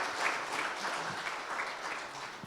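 A church congregation claps together during a Sunday service presentation of flowers and gifts, producing steady, dense applause that holds at an even level throughout.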